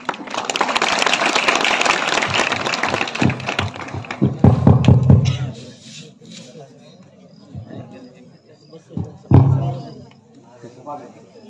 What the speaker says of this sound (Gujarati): તાળીઓ પાડી ભાઈ